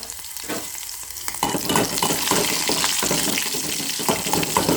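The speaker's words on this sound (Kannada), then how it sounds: "ಬೆಳ್ಳುಳ್ಳಿ ಒಂದು ಒಗ್ಗರಣೆ ಮಾಡೋದು" Garlic tempering sizzles in hot oil for a lentil and greens bassaru, a steady crackling fry with stirring scrapes that grows louder and denser after the first second, continuing without speech.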